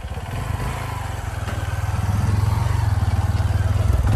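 A rented motorcycle's engine chugs close by with a steady pulsing rumble that grows slightly louder and faster over a few seconds.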